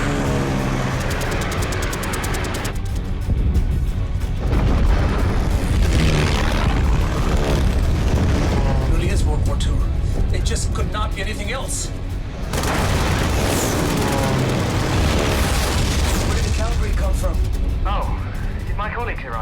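Dogfight between fighter planes set in 1940, with roaring aircraft engines, continuous booming explosions and gunfire, loud and dense, while voices shout over the din.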